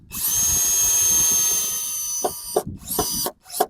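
A power drill drives a screw into a corner of a DIY wooden shed frame, whirring steadily and close for about two seconds before breaking into short, uneven bursts.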